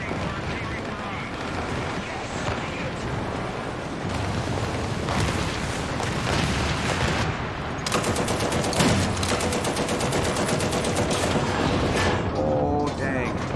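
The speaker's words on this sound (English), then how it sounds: "Some carpet bomber came in and just laid waste to everyone anyway." Dense, continuous battlefield din from a War Thunder match: rapid machine-gun fire and heavy explosions from carpet bombing roll together loudly for the whole stretch, with sharper bursts of gunfire clustered toward the end.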